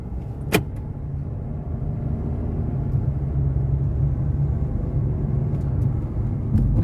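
A Kia Sonet accelerates with a rising engine rumble heard from inside the cabin, starting after a sharp knock and building steadily louder, with no talk.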